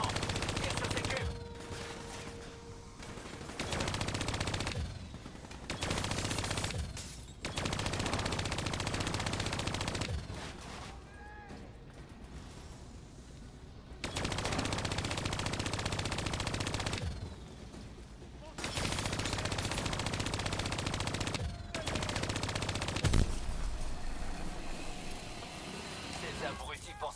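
Bursts of automatic gunfire and explosions in the Call of Duty Black Ops 3 campaign come in several long volleys separated by short lulls, loud and dense over a game soundtrack.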